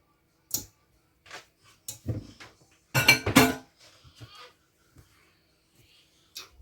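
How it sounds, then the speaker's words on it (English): Batter bun dough scraped into a pile in a mixing bowl, giving a few soft scrapes and clinks of utensil against the bowl, with a louder burst in the middle, then quiet. "we're going to scrape it into a pile"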